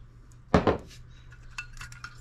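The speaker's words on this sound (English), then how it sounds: "Take the top off. This is just a quart jar." A glass quart Ball jar is handled and its top taken off, giving a couple of quick close clinks followed by faint light tapping, with no talk.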